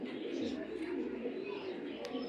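Racing pigeons cooing close by in a low, steady rolling murmur that continues without break, with a brief sharp click near the end.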